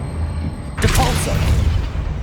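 A Depulso spell goes off in Hogwarts Legacy as a sudden loud whooshing boom, with a dense rumbling blast that carries on beneath a voice.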